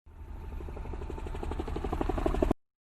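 A helicopter's rotor thumps in a rapid, steady rhythm, building slightly in loudness over a couple of seconds before cutting off abruptly into silence.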